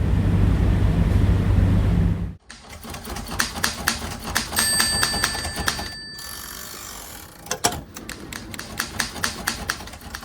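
A typewriter used to make art clacks in quick, uneven bursts of keystrokes with a short bell-like ring partway through, close and crisp, following a loud rushing noise at the start; no talking.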